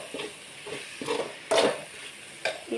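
A spoon stirring sugar into a pot of salty raw banana kootu, giving several rhythmic scraping swishes over a soft steady hiss, close and moderately loud.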